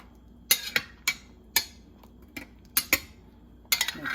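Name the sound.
stirring chicken liver adobo in a pot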